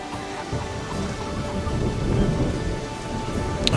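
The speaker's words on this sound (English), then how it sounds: "And constant rain." Steady rain patters and hisses in the Anno 117: Pax Romana video game while low thunder rumbles underneath, swelling slightly midway, with a brief sharp crackle near the end.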